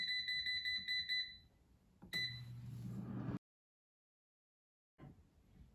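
An air fryer signals that cooking is done with a series of high, clean electronic beeps, followed by a short clunk of handling, silence, then a faint click.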